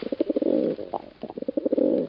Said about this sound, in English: get my carrier pigeon, which I always keep handy just in case I might need a carrier pigeon for something someday